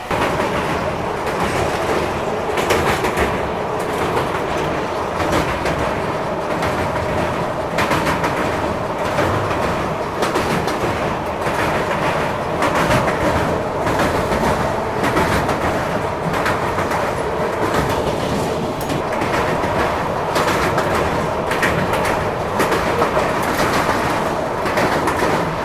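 An AC Express train on the Bangalore to Howrah route runs steadily, with a constant loud rumble and rhythmic clatter of wheels on track heard from inside the coach.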